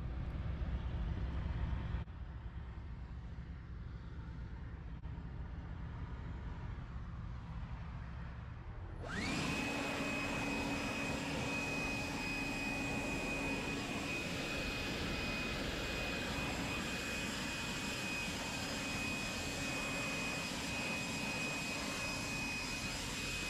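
An air blower drying a car wheel after cleaning starts with a sudden loud jump to a steady, high whining rush of air that holds continuously, following a quieter lower hum.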